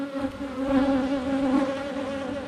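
Honey bees buzz steadily and close during a hive inspection while workers build new comb on the end frames in a nectar flow, a continuous droning hum with no talk.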